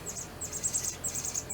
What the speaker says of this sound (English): And you will hear all sorts of birds in the background.